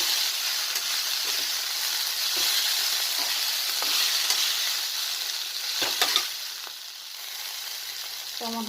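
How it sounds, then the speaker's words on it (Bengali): Tondli frying in a pan is stirred, giving a continuous close, loud sizzle with occasional scraping strokes of the spoon and a few clinks against the pan. "ঢাকাটা খুলে আর একটু নাড়াচাড়া করে দিচ্ছি"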